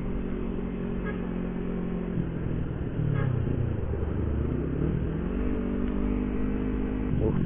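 Busy traffic jam on a town road in Krian, with a steady rumble of car and motorcycle engines, an occasional rev, and a close motorcycle engine carrying on under everything.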